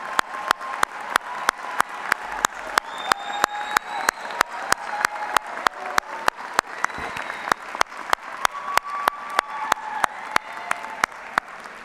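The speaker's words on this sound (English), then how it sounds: "And graduates, give them a big round of applause." Graduates at a university fall commencement ceremony applaud their families and friends, a moderate crowd clapping heard alongside a sharp, regular series of loud clicks that repeats through the stretch.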